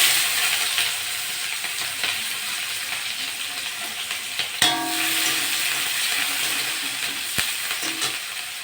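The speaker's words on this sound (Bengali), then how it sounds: "ওই তেলে আমি গোটা জিরে দিয়ে দেবো, একটা বড় পেঁয়াজ কেটে রেখেছি ওটা দিয়ে দেবো।" Whole cumin seeds and a large chopped onion frying in hot oil, a steady, loud crackling sizzle throughout, broken by a couple of sharp utensil clinks as the pan is stirred, with no talking.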